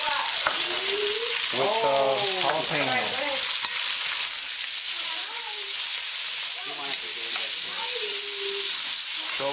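Bacon, onion, red bell pepper and jalapeno fry in a pan with a steady, close sizzle throughout, while someone talks over it now and then.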